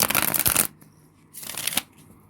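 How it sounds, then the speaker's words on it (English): A deck of cards is shuffled twice, each a quick dry riffling burst with a short quiet pause between. "So I'm going to shuffle these cards a bit."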